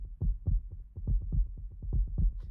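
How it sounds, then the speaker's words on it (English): A heartbeat sound effect in a video game thumps steadily in deep, low double pulses, about two beats per second, loud and close with no talking. "I hate that I can hear the heartbeat sound right now"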